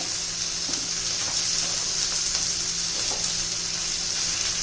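Spices and asafoetida sizzling in hot oil in a pan while cooking pavta bhaji, a steady bright hiss throughout with no one speaking.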